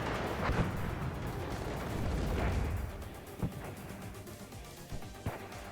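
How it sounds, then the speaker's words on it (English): 81 mm mortars firing in the wargame WARNO, a dull rumbling barrage early on followed by several separate sharp thuds and pops at mid distance, no talk. "You can see the mortars doing actually good work. These are 81 millimeters"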